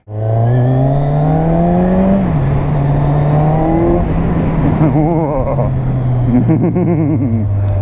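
A 2017 Kawasaki Z1000 motorcycle engine runs steadily on a road ride, its tone rising under throttle and then shifting as gears change, loud and close throughout, with a voice talking over it.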